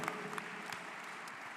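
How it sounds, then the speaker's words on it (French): Applause for the chef of the year at a French gastronomy and wine trophies ceremony, steady clapping from an audience filling the room with continuous dense patter and a few sharper claps, no voices over it. "Applaudissements, s'il vous plaît, pour le chef de l'année, Alexandre Mazia."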